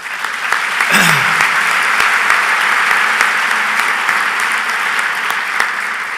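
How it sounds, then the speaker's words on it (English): Audience applause for a posthumous bowling hall of fame inductee at a USBC annual convention meeting, a sustained, dense wash of clapping from a large hall crowd, loud and even throughout. "starting with a round of applause for Woody Woodruff"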